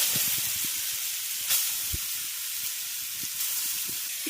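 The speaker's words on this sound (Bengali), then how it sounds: "ঘি গরম হয়ে গেছে এবার গ্রেট করে রাখা গাজরটা দিয়ে দিচ্ছি" Grated carrot hits hot ghee in a pan, giving a steady broadband sizzle and hiss that holds throughout, with a few faint low clicks and pops underneath.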